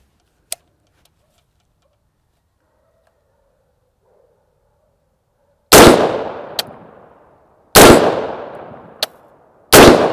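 Gunshots strike a body armor plate in a plate carrier vest turned around backwards, with big bore rounds involved. After a near-silent start with a couple of faint clicks come three loud, sharp shots about two seconds apart, each with a short ringing decay and a crisp impact snap.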